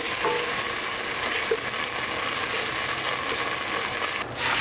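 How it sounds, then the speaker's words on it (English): Butter melts in a hot pan with a loud, steady, hissing sizzle that runs unbroken and close, dipping briefly near the end, with no voices. "we're gonna grab about 2 tablespoons of butter and heat it up"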